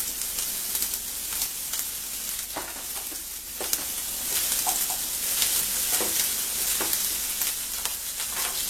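Chopped ginger sizzles and crackles steadily in a hot oiled pan for a mutton keema pepper fry, with scattered pops and the scrape of stirring, close and without talk.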